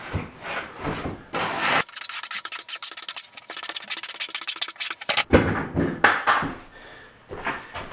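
A trowel spreads thin thinset over tile seams in a shower install, close scraping and rubbing strokes in uneven bursts with a short quieter gap between them, no talk.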